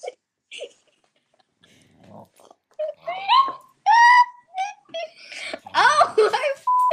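A dog whimpers and wails in short, high, rising and falling cries, loud and close, broken by brief pauses and surrounded by excited human exclamations.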